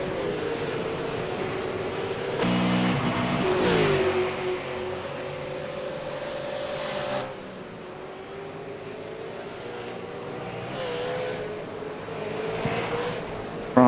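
A Ford Falcon V8 Supercar races around Monza in a racing video game, its engine droning steadily with rising and falling pitch as it accelerates and shifts, loud and continuous with no talk.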